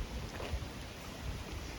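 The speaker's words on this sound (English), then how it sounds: "It hasn't stopped raining. A lot of rain." Steady rain falls on a campsite as a broad, even hiss with soft low thuds, moderately close and continuous, with no voices.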